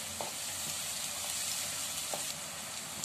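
Onions and green chillies fry in oil for a Guntur-style mutton curry, giving a steady close sizzle with a few brief stirring clicks over about three seconds.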